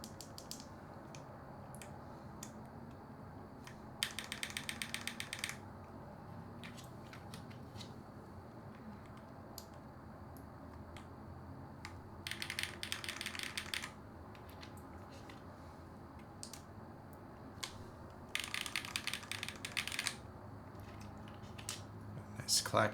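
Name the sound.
typing on Typeface Monospace mechanical keyboard, clacking keys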